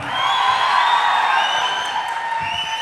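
Audience at a Prithviraj film trailer launch with Akshay Kumar cheering and applauding, a loud sustained roar of voices with scattered whoops and claps.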